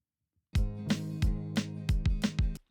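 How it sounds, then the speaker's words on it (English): An EQed kick drum pounds in a song mix, with deep punchy hits falling in a quick, uneven pattern alongside sustained low tones, loud and close after a silent start. "Dude, that kick sounds so much better."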